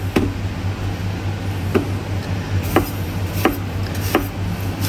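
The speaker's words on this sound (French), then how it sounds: "On l'émince en petits cubes." An onion is diced into small cubes with a sharp knife on a cutting board, five crisp, evenly spaced chops landing about a second apart over a low steady hum.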